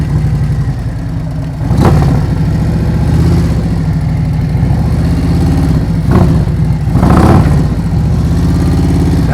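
Motorcycle engine idling and pulling gently during slow-speed riding practice, a loud steady low rumble with a few brief throttle blips rising and falling.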